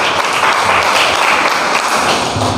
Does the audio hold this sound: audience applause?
yes